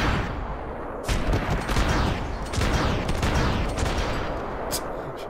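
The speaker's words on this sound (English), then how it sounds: "Just continue shooting him long after the cutscene's over" Sustained heavy gunfire in the video game Max Payne 3 during a stadium escape, loud rapid bursts and volleys running nearly continuously with sharp shot onsets throughout.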